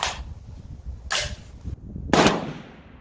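Three separate rifle shots from a PSA 6.5 Grendel on a range, evenly spaced about a second apart, each a sharp loud crack with a short decay, alone without talk.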